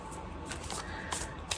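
A unicorn-themed tarot card deck being shuffled by hand, a faint, close series of soft riffling and slapping card sounds with a few sharper snaps, heard alone at low volume.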